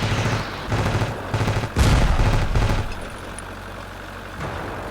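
Rapid bursts of automatic gunfire from a helicopter in a video game, several loud rattling volleys over a constant low engine hum, giving way to the rotor drone alone.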